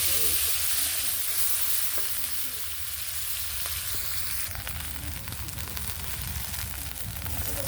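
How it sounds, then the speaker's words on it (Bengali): Spices sizzle and fry in oil left over from frying chicken for biryani, a loud, continuous hiss with occasional stirring scrapes, close up and with no talking. "মশলাটা কষিয়ে নেব"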